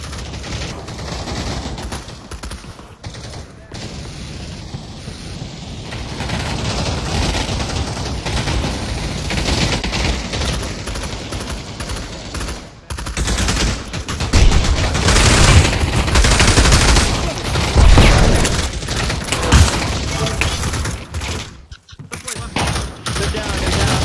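Dense gunfire from the virtual reality shooter Pavlov: bursts and volleys of rifle shots rattle almost continuously, loud and close, with a few short gaps, while players talk over the shooting.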